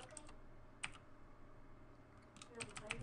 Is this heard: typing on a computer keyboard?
yes